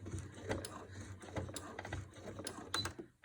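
Sewing machine stitching a clothing seam during a mending repair, a quiet mechanical chatter with rhythmic clicking and whirring, starting and stopping, heard close up with no talk over it.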